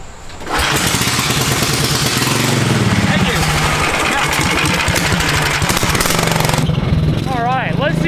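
A cheap Temu-bought go-kart engine, started with the choke on after cranking, roars loud and steady at close range for several seconds with a constant rattling drone, and a voice speaks over it near the end.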